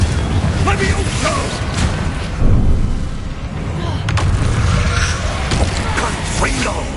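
Fire-spell blasts from Confringo in the game Hogwarts Legacy go off as booming, crackling explosions mixed with impact noises and game combat sounds, while a voice talks over them.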